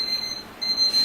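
A thin, high-pitched electronic beep from a PC fan controller sounds continuously, briefly dropping out before resuming at the same pitch.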